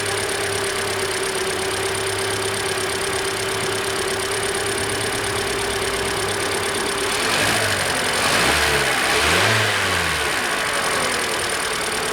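A 2013 Hyundai Elantra engine idles steadily with no belt squeal, then revs up briefly in a few rising bursts before settling back down, close and fairly loud, with no talking.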